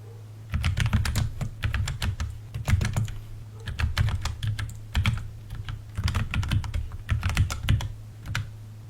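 Steady bursts of typing on a computer keyboard while writing code, close and clear, with short pauses between runs of keystrokes and no talking.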